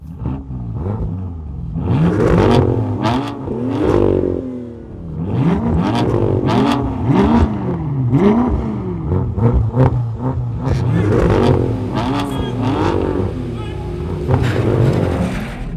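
A manual BMW M2 accelerates hard in a drag race against automatic BMW rivals, its engine revving up and dropping in repeated rising sweeps through gear changes, loud and close, with someone talking excitedly over it.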